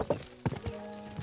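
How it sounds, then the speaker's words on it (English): Horse hooves in the medieval video game Kingdom Come Deliverance II: a few close, quick clopping hoofbeats in an uneven rhythm over a faint tonal background hum. "The horse nearly trampled me."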